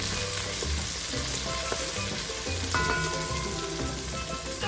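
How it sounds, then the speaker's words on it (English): Onions and seasoning pepper frying in oil in a pan, a steady close crackling sizzle with scattered pops and faint stirring clinks throughout, no talk. "So you can see your onions fried out nicely."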